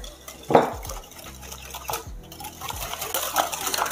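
Sugar and egg yolks are whisked together for madeleines in a bowl, giving close scraping and clinking strokes with an uneven rhythm, fairly quiet.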